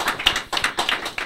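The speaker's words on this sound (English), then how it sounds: "let's give a big round of applause for our artists today" A small audience claps for local artists at the close of a show, a handful of distinct, close hand claps in a quick irregular rhythm, loud and alone with no talk over them.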